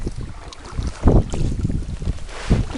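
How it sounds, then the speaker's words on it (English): Canoe paddling on Quetico Lake in Quetico Provincial Park, with a few soft paddle strokes and water swishes over steady wind buffeting the microphone, close and moderately loud. "I better start paddling."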